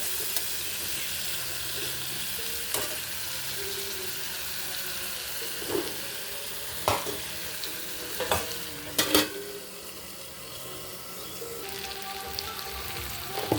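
Potatoes fry in a pan in a home kitchen, a soft crackling sizzle running throughout, broken by scattered spatula scrapes and clinks, with a cluster of sharper knocks toward the middle.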